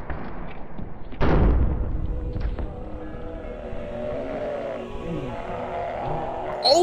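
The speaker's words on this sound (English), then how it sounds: "our cannon with grape shot is ready" A cannon loaded with grape shot fires in RimWorld: one sharp heavy boom near the start, then a lingering rumble and game sounds.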